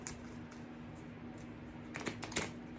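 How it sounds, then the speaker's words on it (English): Oracle cards riffled and shuffled like a deck, a soft papery flutter with two sharper bursts of card snaps near the end, close and quiet over a steady low hum. "some people shuffle them like a deck of cards"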